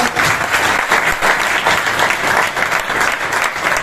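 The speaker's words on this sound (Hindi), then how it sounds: "रामेश्वर जी के लिए एक बार मैं जोरदार तालियां चाहूंगा" Loud, dense applause from a business seminar audience, continuous crowd clapping in pulsing waves across the whole stretch, with no talk over it.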